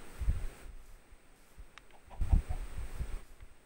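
Chickens in a video game give a few scattered clucks and short squawks in two small bursts, close and fairly clear against a quiet background.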